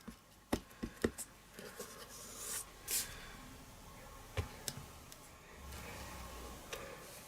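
Rubber stamp inked with Tuxedo Black Memento ink pressed onto Cajun Craze cardstock for a Halloween box cover, a few soft quiet taps and thuds with faint rubbing and handling noises between them.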